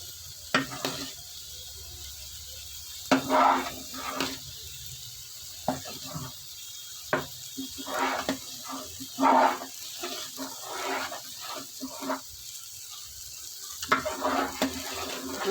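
Sago and rice flour batter being stirred in a pot, wet sloshing strokes and scraping at irregular intervals over a faint steady hiss, close and fairly quiet, with no voices.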